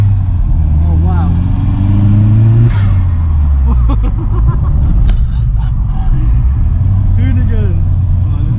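An Audi S3 with a 1.8T engine running, a loud close rumble with a brief rev that rises then settles into a steady idle, with people talking over it.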